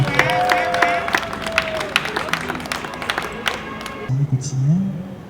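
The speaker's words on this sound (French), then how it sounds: "Applaudissez très fort pour le population, s'il vous plaît." Crowd at a civil wedding ceremony claps and cheers in a dense burst, with voices and music-like tones mixed in, fading toward a quieter stretch near the end.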